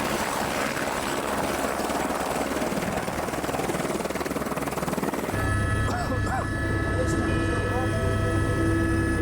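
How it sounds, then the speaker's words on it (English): A helicopter's rotor thumps steadily and loudly throughout, with the engine drone shifting partway through as it passes close by. "Then another helicopter gets through."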